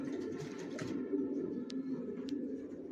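Racing pigeons coo softly in a loft, low rolling calls repeating under a quiet room hum, with a couple of faint brief clicks.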